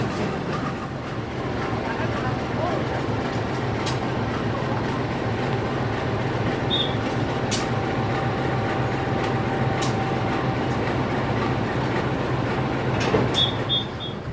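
A CC203 diesel locomotive being coupled to a train in a station, heard as a steady low rumble of engines and rail noise with a few sharp metallic clanks and faint squeals, and occasional distant voices.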